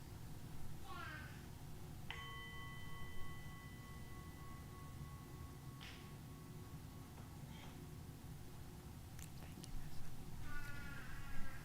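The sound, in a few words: bell rung at a memorial service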